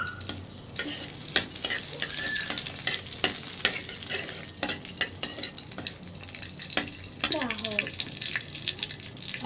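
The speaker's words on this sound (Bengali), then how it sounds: "ঘির সাথে দিয়ে দিব তিনটা এলাচ একটা তেজপাতা" Cardamom pods and a bay leaf sizzle and crackle in hot ghee, a steady broadband fry punctuated by sharp clicks and stirring scrapes, fairly close and constant throughout with no talking over it.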